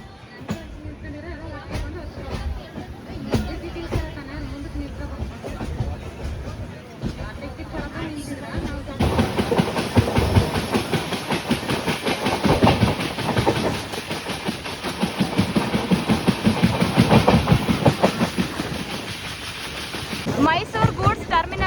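The Mantralayam Express, running from Mysuru to Mantralayam, rolls through a curve with a rhythmic clickety-clack of wheels and a constant engine rumble. The sound grows louder and fuller halfway through, with faint voices and babble under it.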